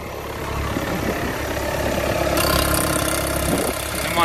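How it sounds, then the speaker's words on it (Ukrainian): A Volkswagen Golf VII 2.0 TDI Lounge diesel engine idles steadily in cold weather just after a cold start, a continuous even clatter and hum heard up close with no talking. "Робимо його запуск перший. Абсолютно адекватно, можна сказати, з півобороту."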